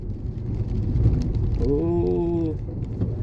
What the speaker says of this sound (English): This is rain? This strange weather.